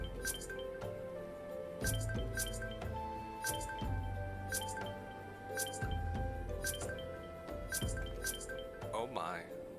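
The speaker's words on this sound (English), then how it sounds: "That sound you heard was all the letters that I didn't get in my last episode finally coming in." Bright glassy chimes ring out in quick repeated bursts as a batch of letters arrives in Final Fantasy 14: A Realm Reborn, layered over background game music and ambience for several seconds.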